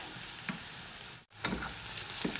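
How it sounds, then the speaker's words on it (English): An onion sautés in a pan with a steady, close sizzle and faint crackle that runs on alone with no talking. "we'll saute the onion just for a few minutes until it's the good aroma of the onions come out"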